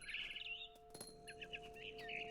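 A mother bird in the video game What Remains of Edith Finch chirps in quick, bright bursts, a short string of tweets at moderate distance over a faint steady background hum.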